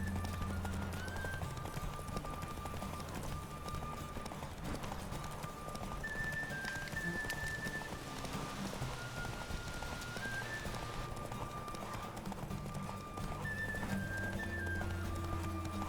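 Horse hooves in The Witcher 3 beat out a steady clip-clop gallop, close and continuous, over soft ambient game sound with faint musical tones.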